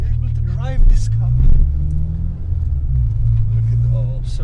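A Renault Clio fitted with a new throttle body and catch can is driven, its engine a close, steady low drone that rises slightly in places, with a voice talking over it.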